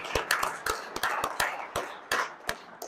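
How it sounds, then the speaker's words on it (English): A round of clapping at a ski gathering on a mountain in Vail, sparse and uneven claps from a small group, fairly close, with no talking over them. "giving a round of applause to all of the guides and leaders that took us all around this mountain"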